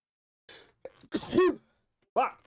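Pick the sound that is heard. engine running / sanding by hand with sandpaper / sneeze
sneeze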